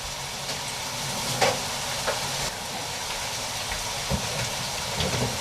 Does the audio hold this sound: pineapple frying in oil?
yes